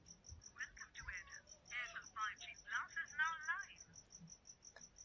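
A faint, steady series of rapid electronic ringing beeps from a T800 Ultra smartwatch receiving a phone call repeats throughout, at low volume, with soft voices murmuring underneath.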